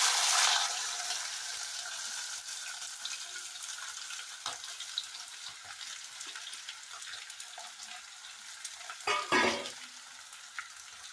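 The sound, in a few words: chopped ivy gourd stir-frying in a pan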